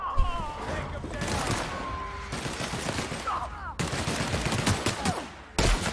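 Rapid bursts of gunfire in the video game The Outer Worlds, played on hard difficulty, crackle densely through the whole stretch under game music and effects, with a few sharp louder shots near the end.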